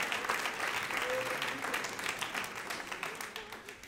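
An audience at a church gathering breaks into steady, full applause, dense clapping that carries on throughout and slowly eases, with faint voices mixed in.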